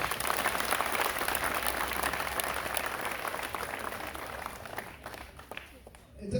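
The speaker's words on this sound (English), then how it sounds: "I want us to give ourselves a round of applause again" A large audience at an official gathering in the Gambia claps in sustained, dense applause that fills the whole stretch loudly, then thins slightly near the end.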